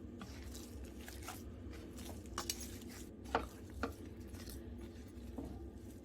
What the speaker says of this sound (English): So I'm going to mix this properly.